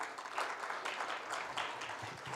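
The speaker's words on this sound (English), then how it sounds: "a huge round of applause?" A round of audience applause at the FAMES & Indian Glory Awards 2024 ceremony, fairly faint and steady, a broad wash of clapping that continues throughout.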